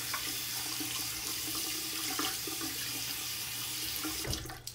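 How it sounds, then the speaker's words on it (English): Warm tap water running onto a washcloth at a sink, a steady faint hiss of flowing water with small splashes, alone and without talk. "I'm getting warm water on my washcloth."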